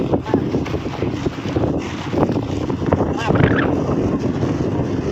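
Strong wind buffets the microphone outdoors at a rural frog-digging spot, a steady loud roar with gusty swells that runs throughout and drowns out other detail.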